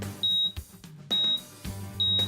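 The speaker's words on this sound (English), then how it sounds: "it will audibly beep letting you know when the TPW cell is ready to be realized" An ADT878 calibrator sounds three short, clear electronic beeps at an even pace to signal that its triple-point-of-water cell, supercooled by the 878-160, is ready to be realized. Each beep is separated by quiet gaps with low background hum.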